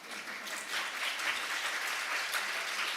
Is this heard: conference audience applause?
yes